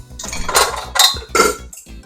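A mixing bowl being taken out and handled in a home kitchen during chocolate cake baking, giving several close clanks and knocks of dishes and utensils in short bursts, with no talking.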